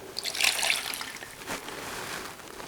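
Water poured into a food processor holding chili powder, garlic, salt and vinegar for homemade hot sauce; a short, fairly soft splashing trickle that lasts a couple of seconds, with no talking.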